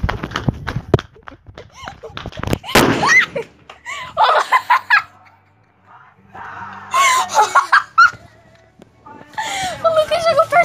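A small firecracker goes off in front of a car during New Year's celebrations. Sharp, loud bangs and crackling come near the start, followed by frightened voices and exclamations.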